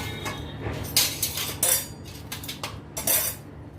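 Cornflakes chivda with nuts, raisins, roasted chana dal, curry leaves and green chillies tossed in a pan, a spoon scraping and clinking against the metal in quick repeated strokes, close and clear with no talk.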